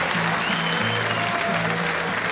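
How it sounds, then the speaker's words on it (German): Audience applause at a Cologne carnival show in 1983, steady dense clapping filling the whole stretch, with a low sustained tonal hum underneath and no voices standing out. "Und sie klatschen auch noch"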